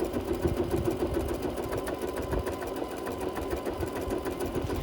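Sewing machine stitching around a wool fabric pumpkin shape for a garland, a close, continuous motor hum with fast, even needle chatter and no talk.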